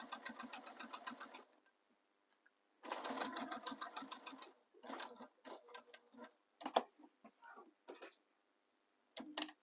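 A sewing machine stitches along the bottom of a tote bag pocket in two sustained runs, then a series of short stop-start bursts, each a fast mechanical chatter, close and clear with no talking.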